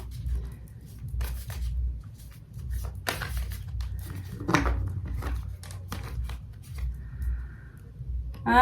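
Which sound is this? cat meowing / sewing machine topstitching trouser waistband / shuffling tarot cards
shuffling tarot cards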